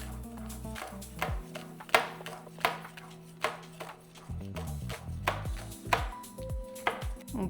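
A knife chops green onion on a cutting board in a kitchen, a steady run of sharp, close taps spread across the whole stretch, with a faint tonal hum underneath.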